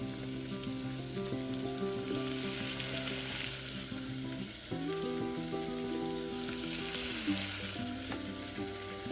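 Frozen beans fry in hot oil in a pan while kichidi sambar rice is being cooked, with a steady close sizzle that shifts in pitch and texture as the pan is stirred.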